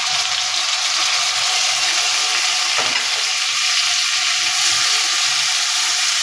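Marinated prawns fry with browned garlic for fried rice, giving a loud, continuous close-up sizzle with one brief scrape partway through and no voices.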